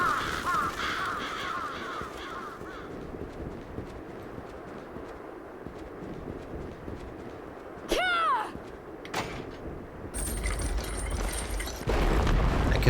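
In the castle game Bloodstained: Ritual of the Night, crows give harsh caws mixed in with clopping hoof-like steps and mechanical game effects. A sweeping chirp-like cry cuts through midway, and a louder rumble builds near the end.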